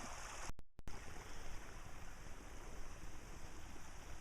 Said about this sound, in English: Now there's a major leak. It's making a whirlpool.